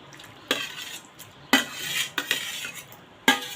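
Custard apple pulp goes into cooled milk for a sitafal basundi, with a handful of sharp clinks and scrapes of a spoon against a metal pan, spaced out and close by, with no talking.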